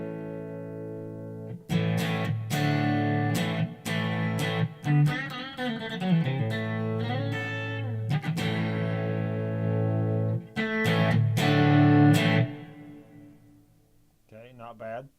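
A Marshall Code 50 amp with the volume cranked and the master turned down, power section overdriven, rings out distorted electric guitar chords and bends, loud and sustained with brief pauses between phrases.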